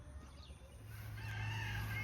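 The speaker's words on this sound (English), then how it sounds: "Chicken, you are in a dangerous spot." A chicken on a pig farm calls faintly, with the sound growing slightly louder toward the end over a quiet outdoor background. No one speaks.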